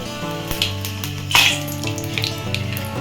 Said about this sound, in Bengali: তেলটা গরম হয়ে গেছে দিয়ে দেবো অল্প মতো পাঁচ ফোড়ন এবার দেবো কারি পাতা